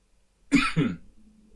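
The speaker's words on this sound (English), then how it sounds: "if you hear me coughing, don't be alarmed" Two quick, close allergy coughs in a row, the second slightly softer, followed by quiet room tone.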